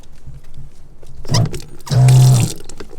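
Tap fed by a van's onboard water tank, running in two short bursts, with the second bursting flow louder and steadier as water splashes into a portable sink.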